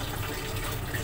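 Water runs steadily for a morning bath, a continuous close rushing flow with no pauses and no voices.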